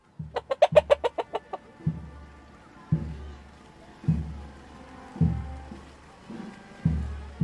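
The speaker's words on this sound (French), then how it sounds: "Derrière eux venait Rousse, la petite poule." A hen clucks nearby: a quick rapid series of clucks at the start, then slower, spaced single clucks repeating steadily.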